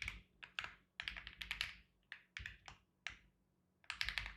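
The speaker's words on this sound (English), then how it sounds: "I'm kind of just typing this up real quick" Computer keyboard typing in clustered bursts of quick key clicks separated by short pauses, close and fairly quiet, with no talk.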